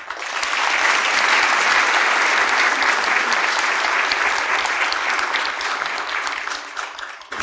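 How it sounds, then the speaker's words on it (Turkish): Loud, sustained applause from a large theatre audience at a memorial evening in Eskişehir, steady clapping that fills the whole stretch and fades slightly near the end. "Sayın Eskişehir Seyirciye alkışlıyoruz"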